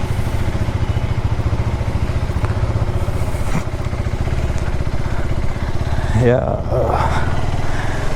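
A 2025 KTM Adventure motorcycle engine runs loud and close with a steady rough throb and a brief rev near the end, while a person talks over it.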